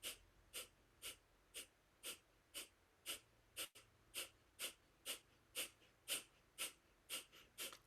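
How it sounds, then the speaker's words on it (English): Rapid, rhythmic forced breaths of a breath of fire exercise, about sixteen sharp, evenly spaced puffs over eight seconds, close and fairly quiet, with no talking. "breath of fire begin"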